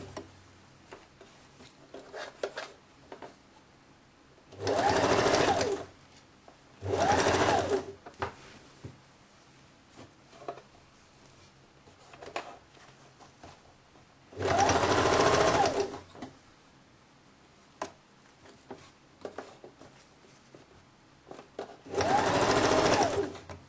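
A sewing machine stitches a women's blouse with a Peter Pan collar through several layers of fabric, running in four separate loud bursts of a few seconds each, with quiet handling and rustling between them.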